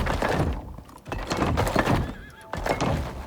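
A horse in the survival video game Icarus gives a loud, close whinny alongside a few hoof clops and thunks, with no talking.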